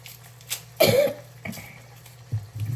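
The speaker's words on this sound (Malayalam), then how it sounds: "എൻ്റെ ചുമ മാറുന്നില്ല." A single harsh cough bursts out close by, followed by a few quieter throat sounds and light breaths in an otherwise calm room.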